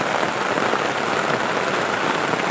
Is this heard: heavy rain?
yes